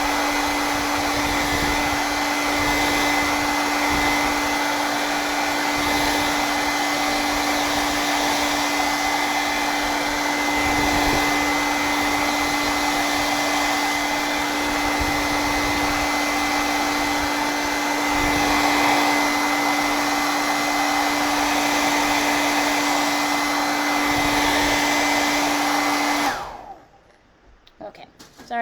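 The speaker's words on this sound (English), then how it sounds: "I'm going to just blast it real quick with my blow dryer." A hair dryer blasts continuously to dry freshly painted palette-knife pumpkins, a loud steady whooshing hum close up for nearly half a minute before abruptly switching off.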